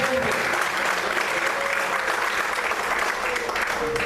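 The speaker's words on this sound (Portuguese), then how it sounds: "Aplaude o Senhor." Church congregation applauding during worship, a continuous dense wash of clapping with a faint sung or spoken tone running underneath.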